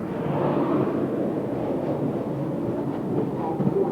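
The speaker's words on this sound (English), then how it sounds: "our train continues on its way to Alderley Edge" A steady, loud rumble of an electric train rolling along rails near Manchester, England, in 1992, with continuous low roar and faint rhythmic clatter throughout, no voices.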